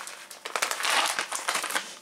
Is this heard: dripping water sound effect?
no